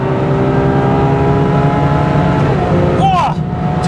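A Ferrari 812 Superfast V12 revs hard at full throttle on the Autobahn, a loud sustained engine note climbing steadily in pitch, then a quick shift with brief gear-change chirps near the end, heard from inside the car.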